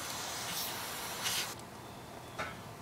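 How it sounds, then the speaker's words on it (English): A spray bottle mists a tree frog's cage in three quick, soft spritzes, separated by brief pauses of quiet background hiss. "Give it a good mist for your froggy"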